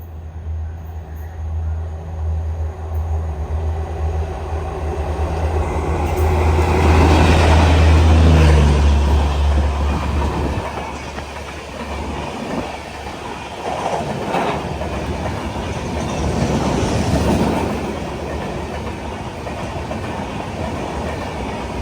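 The Duronto Express from Mumbai Lokmanya Tilak Terminus to Ernakulam rumbles through the small Kalanad station in Kasaragod, a loud, sustained roar of wheels and clattering carriages that swells and stays steady as the train passes close.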